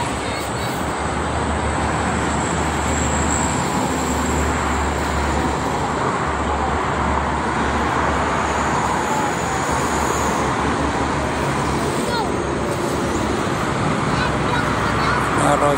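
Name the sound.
traffic on Jakarta-Cikampek toll road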